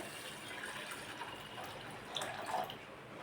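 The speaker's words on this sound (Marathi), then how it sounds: "यामध्ये पाणी टाकायचं आहे" A soft, continuous rush of water pouring onto wheat in a pressure cooker, steady and fairly faint, with a slight gurgle near the end.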